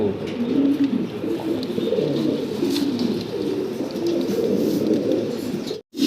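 Fancy pigeons coo repeatedly up close, their soft throaty calls overlapping in a continuous murmur, with a brief dropout just before the end.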